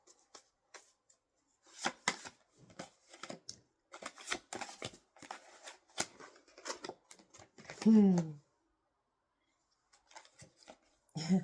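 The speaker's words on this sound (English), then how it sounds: "we're going to shuffle it one more time and we're going to get an overall feel" Tarot cards riffled and shuffled by hand in several quick, dry bursts with soft gaps between, close and fairly quiet, with a brief voiced sound near the end.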